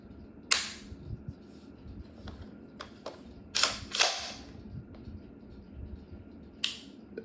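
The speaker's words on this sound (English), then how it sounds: "You can tell the difference between that trigger and this trigger." Trigger of a new pistol being pulled and reset, a few sharp separate clicks, some doubled, close and clear against quiet background with no talk.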